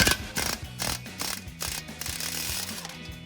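A ratchet cranks a nut held by vice grips while control arms come off a Jeep Wrangler TJ, giving a close series of rapid pawl clicks in short back-and-forth strokes with metallic rattles.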